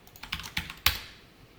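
A handful of separate computer keyboard keystrokes while entering code for a responsive website layout, spaced unevenly with one louder final tap, close and quiet with no voice.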